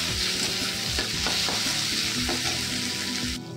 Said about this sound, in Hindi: अब टमाटर दे देते हैं, गलते गलते हो जाएगा तब तक लाल